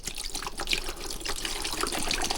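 Bottled British spring water splashes and gurgles steadily as it is poured into the tank of a Kaiweets KPW-F1 pressure washer, close and continuous with no talk.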